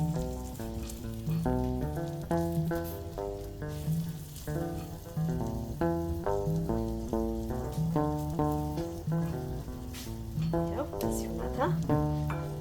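Ethiopian-style scrambled eggs with tomato frying and stirred in a pan, a steady close sizzle broken by repeated scraping stirs, with no talk.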